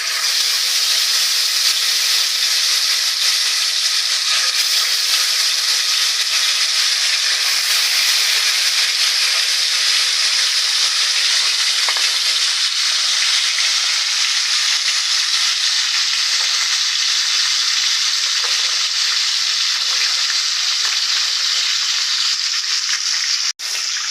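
Koi fish sizzling in hot oil in a pan, a steady, loud, dense frying hiss that continues unbroken from start to finish with no voices.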